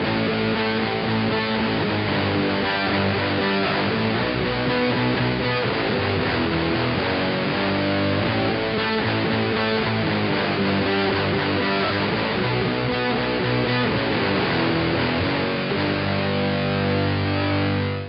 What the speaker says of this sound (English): I'm going to put a bit of an octave on my pedal board there so we get this super fat sound